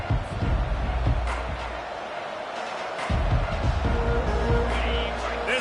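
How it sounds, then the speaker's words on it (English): Stadium crowd at a college football game, a broad continuous roar that swells and holds through the play, with an announcer talking over it. "This crowd trying to make life miserable for this offense."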